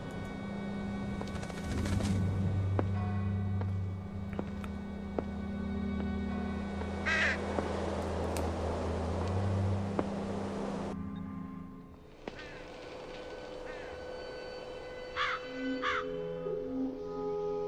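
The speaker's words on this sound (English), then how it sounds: "Large black crows." Large black crows caw in The Lost Crown ghost-hunting game near an old church, harsh calls breaking through a dense, droning ambient soundscape with tonal hums and a sudden noisy shift partway through.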